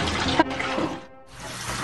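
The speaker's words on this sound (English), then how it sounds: "there's a lot of water running here" Water from a sailboat's bilge gushes and splashes out in a close, noisy burst, breaking off briefly into near silence before the rushing flow picks up again.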